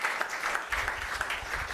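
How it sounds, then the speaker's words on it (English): Brief, steady applause from the audience at the MEST Africa Challenge 2022 grand finale, a continuous patter of many hands at moderate loudness with a low rumble underneath. "Another round of applause for the team."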